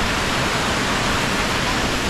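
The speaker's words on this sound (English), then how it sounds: "The waterfall in there." A waterfall in a forest on southern Vancouver Island pours with a steady, close hiss and roar of rushing water that fills the whole moment.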